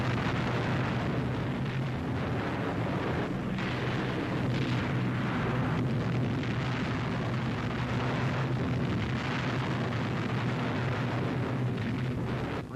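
Bombs bursting during a 1944 RAF Bomber Command Lancaster raid on a military college works, heard as a continuous dense rumble of distant explosions and artillery-like booms from an old wartime film recording, with no speech.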